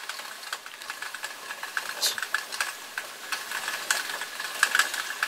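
A fishing reel's handle being cranked to spool new line onto it, giving a soft, steady mechanical whirring and ticking with faint clicks, close by and fairly quiet.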